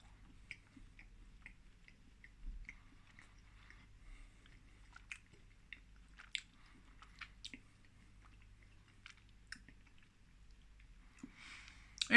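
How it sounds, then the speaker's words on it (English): Quiet chewing and biting on a peanut butter chocolate Easter egg, with soft intermittent crunches and wet mouth sounds close to the microphone over a low steady background hum. "Opened it up. Peanut butter. Okay, let's give this one the taste test and see what it's like."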